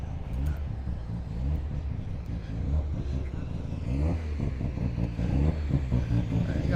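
The Grave Digger monster truck's engine revs at an outdoor car show, a deep, rough rumble with rising and falling throttle bursts, heard fairly close amid background voices.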